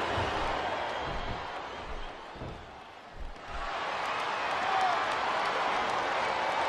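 A video game arena crowd roars and cheers in WWE SmackDown vs Raw 2008 as Jeff Hardy enters the ring, a broad, continuous wash of noise that dips briefly and then swells again, with thumps from the ring and faint commentary.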